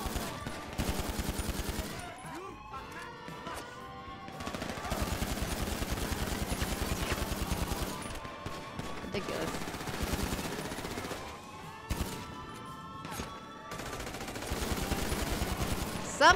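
Sustained automatic gunfire rattles in GTA V, long rapid bursts separated by brief pauses, loud and close throughout the stretch with a final sharper crack at the end.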